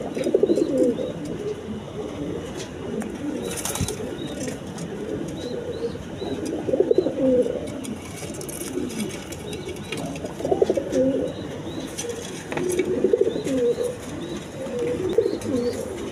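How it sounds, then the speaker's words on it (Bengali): Running pigeons coo over and over in overlapping, throaty calls close by, forming a continuous murmur with occasional louder bursts and light rustling. "একদম রানিং কবুতর"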